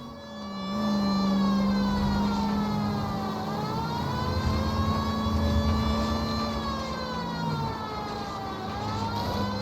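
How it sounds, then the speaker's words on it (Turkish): A wailing siren in the video game L.A. Noire rises and falls continuously, loud and close, with a low engine rumble underneath and no voices. "Siren çalıyoruz lan burada."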